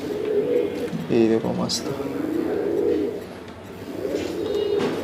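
Soft, low cooing of imported pigeons in a loft in Santacruz East, Mumbai, repeats through the clip, blending with a voice speaking close by.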